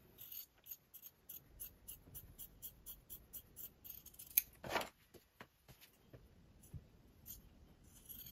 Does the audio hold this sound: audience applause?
no